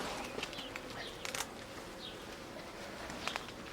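Bees swarm around an open hive during an inspection, a continuous close buzzing drone with single insects whizzing past and a few faint taps.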